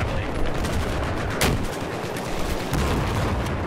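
Sustained gunfire in Battlefield 4, a dense rattle of automatic shots with one sharper crack standing out midway, loud and close throughout with no voices.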